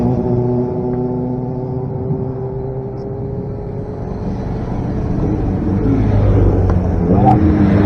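A race car at Les Essarts passes by, a loud engine drone that shifts in pitch as it goes past and then rises again as it revs up.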